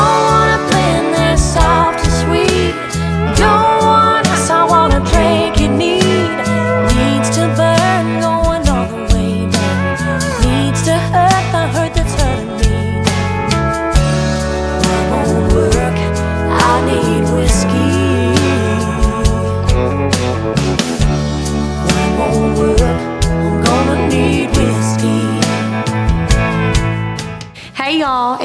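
A country single plays with a sung lead vocal over full band accompaniment, loud and continuous for the whole stretch before ending abruptly.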